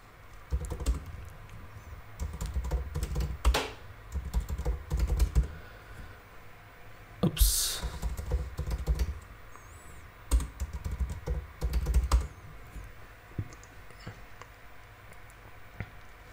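Password keystrokes rattle on a computer keyboard in uneven bursts of fast clicking separated by brief pauses, close and fairly quiet with no voices.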